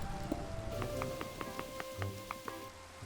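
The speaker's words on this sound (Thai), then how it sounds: "ตอนนี้ฝนตกหนักมากไม่ไหว" Heavy rain in the Minecraft video game falls as a steady, even hiss. A faint series of about eight evenly spaced tones sits on top of it, and no voices are heard.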